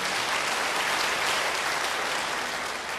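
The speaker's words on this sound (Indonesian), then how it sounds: "Yang mau beri tepuk tangan yang baik buat dia." A church congregation claps together in a dense, even wash of applause, loud and close, sustained for a few seconds with no voices on top.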